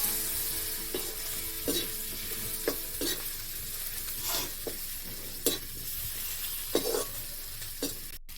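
Prawns frying with turmeric and bay leaf in a hot pan, a steady close sizzle broken by a series of sharp scraping stirs at irregular intervals.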